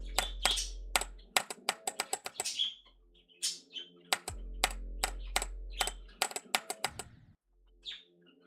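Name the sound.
typing on computer keyboard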